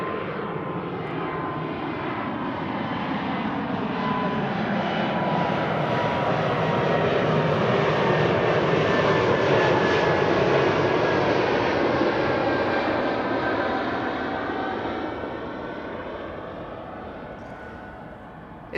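A jet airliner departs runway 24, the Kaagbaan, at Amsterdam Schiphol, its broad engine roar swelling as it passes close and loud, then slowly fading, with no voices.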